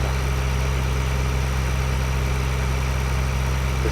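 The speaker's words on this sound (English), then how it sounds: "And here we go, starting up. I do have the tractor in all-wheel drive" Tractor engine in all-wheel drive labouring slowly up a farm hill with a loaded trailer, a steady loud low drone with constant vibration and no break in the running.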